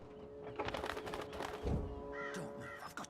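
A magical talking bird in the Dreamfall Chapters video game lets out a quick series of harsh caws, close and fairly loud over faint game ambience.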